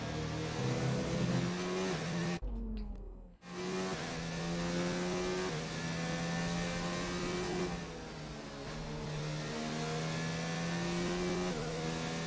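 An F1 car revs hard on throttle in a racing game, its high-pitched engine whine steady and loud, dropping briefly mid-clip before climbing again and holding.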